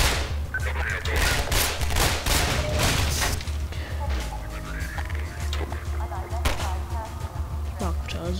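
Gunfire in the video game Half-Life 2: rapid bursts of automatic shots crackle repeatedly over the first half, then scattered single shots follow amid other game sounds, with someone talking in Czech at times.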